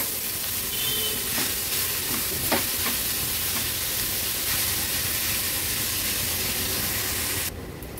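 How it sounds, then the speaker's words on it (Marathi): Grated pumpkin stir-fried in a hot spice tempering in a pan, giving a continuous close sizzle with a few scraping stirs, then a quieter ending. "व्यवस्थित मी ह्याच्यात परतून घेते।"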